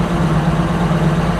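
Oliver 525 tractor engine with a faulty, oil-starved governor running steadily and loud, a close, low rumbling engine note that holds even throughout with no voices.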